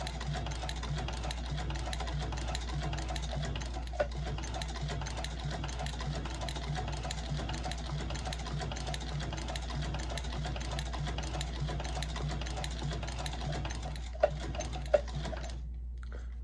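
A sewing machine stitches through four or five layers of leather on a Red Wing Iron Ranger boot, a steady fast mechanical whir with rapid ticking needle strokes and a few sharper knocks near the end.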